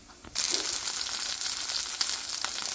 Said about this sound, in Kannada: ಪಂಪ್ಕಿನ್ ಹಾಕಿದ್ದೀನಿ. ಸ್ವಲ್ಪ ರೋಸ್ಟ್ ಮಾಡಬೇಕದೀಗ.